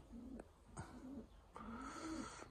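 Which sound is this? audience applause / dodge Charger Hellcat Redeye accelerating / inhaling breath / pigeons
pigeons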